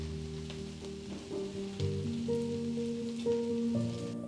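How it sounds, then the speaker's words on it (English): Orzo sautéing with onions and garlic in olive oil, a soft continuous sizzle and crackle, close and fairly quiet, with a background tone of instrumental music. "Half cup orzo. Sauté for 3 to 4 minutes."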